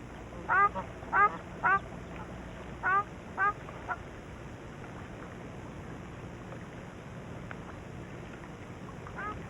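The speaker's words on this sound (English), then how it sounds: "The geese try to steal material from the grebe's new nest." Geese honk loudly in a squabble with grebes over nest material on a lake in Ladakh. About six harsh, nasal calls come in quick clusters, then give way to a quiet, steady outdoor background.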